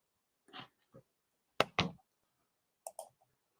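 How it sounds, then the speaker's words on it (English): Someone typing a text message on a phone, heard as a few quiet, sparse clicks and taps in small clusters with silence between them. "I'm just going to type her a text as well."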